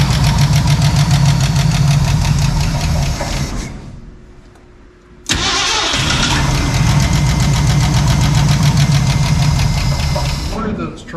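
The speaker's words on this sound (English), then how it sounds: "The exhaust sounds better than the 65." A deep Ford 302 V8 exhaust in a 1968 Chevy C10 pickup rumbles loudly and steadily, cuts out for a second or so, then roars back and keeps running.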